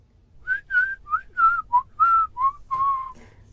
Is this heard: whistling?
yes